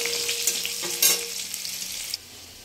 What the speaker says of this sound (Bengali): এটা আমি আলুটা আলাদাভাবে ফ্রাই করে নিচ্ছি